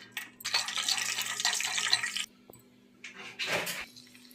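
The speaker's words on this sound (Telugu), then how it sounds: "జీడిపప్పు వేయించి తీసేసుకుందాము." Cashews frying in hot oil in a kadai on a stove, a steady close sizzle and hiss that cuts out briefly midway and then returns in a softer burst.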